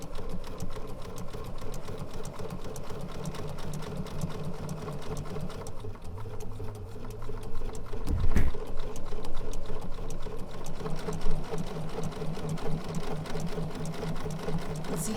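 A sewing machine fitted with a ruler foot stitches clamshell quilting shapes in a steady, rapid whirring drone that runs without a break. A single soft thump lands near the middle.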